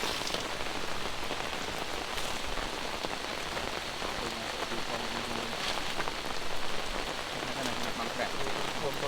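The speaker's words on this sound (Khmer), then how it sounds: "វានឹងធ្លាក់ភ្លៀងបែបនេះ" Steady rain pours through the forest on a riverside camping trip in Koh Kong's mountain country, a dense continuous hiss with scattered drop patters, close and unbroken for the whole stretch.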